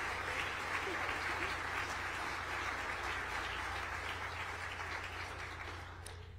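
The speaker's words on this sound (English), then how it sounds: "I see Liz Elliott clapping in the background." An audience at a civic State of the City address gives a continuous round of applause. The dense, even clapping fills the whole stretch and fades slightly toward the end.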